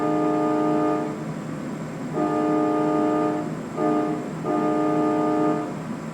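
Secondary air horn of a semi truck in American Truck Simulator, blown in three long chord-like blasts with short gaps between, loud and close over a steady engine hum.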